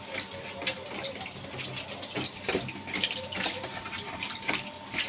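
Broth poured into a baking tray for a minced-meat roqaq pie, a steady close-up trickle and splash of liquid running for several seconds with no voices.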